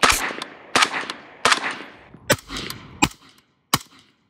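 A rifle fitted with a full-size Velos 556 suppressor fires six sharp, muffled shots at irregular intervals, each one followed by a brief echoing tail.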